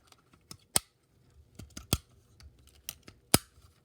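Plastic panels of a Transformers Earthrise Quintesson Judge voyager-class toy being folded, giving several sharp close clicks and snaps spaced irregularly against near silence.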